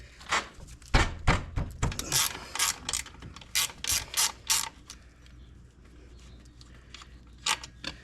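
A ratchet wrench working the brake caliper bolts loose on a Honda FourTrax Foreman Rubicon 4x4 ATV, close-up bursts of quick clicking ratchet strokes with short pauses, then a few last clicks.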